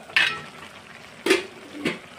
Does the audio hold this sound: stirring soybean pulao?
yes